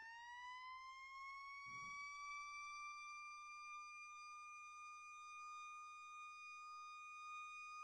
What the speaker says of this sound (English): Sounds like an air raid siren.